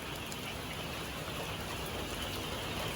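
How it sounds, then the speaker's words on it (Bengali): A light drizzle falls over a poultry farm as a faint, even hiss of rain, steady and unbroken throughout with no distinct drops standing out. "হালকা হালকা করে বৃষ্টি পড়তেছে।"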